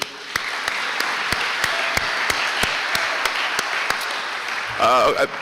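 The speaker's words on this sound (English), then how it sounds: "If we could give them a round of applause, I'd appreciate it." Applause at a high school sports awards ceremony: a steady, moderately distant wash of clapping with a few sharper individual claps standing out, before a voice briefly speaks near the end.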